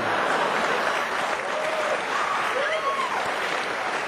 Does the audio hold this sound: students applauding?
yes